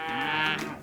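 A cow on a farm gives one short, nasal moo, close and fairly loud, lasting under a second.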